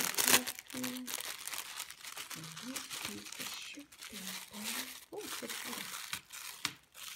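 Wrapping around a mailed item rustles, crinkles and tears as it is unwrapped up close, with a person talking throughout.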